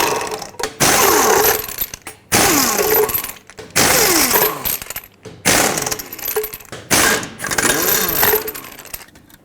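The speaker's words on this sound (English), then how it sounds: "Regardless of your size, remove all 6 of your lug nuts," A power impact wrench spins lug nuts off a 1996-2002 Toyota 4Runner front wheel, in five loud, harsh bursts of a couple of seconds each, with short pauses between them.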